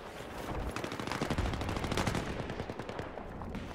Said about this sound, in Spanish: Pero nos están recagando a tiros.